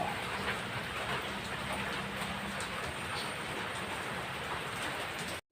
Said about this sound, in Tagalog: Umuulan. Maulan na umaga.